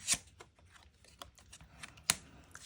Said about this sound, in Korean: 그럼 마지막으로 조언 카드 열어보도록 할게요.